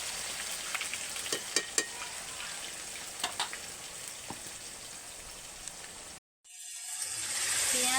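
Steady crackling sizzle of a ground onion, tomato, ginger and garlic paste frying in hot oil in a kadai, with scattered sharper pops, continuous and close, then a brief cut near the end.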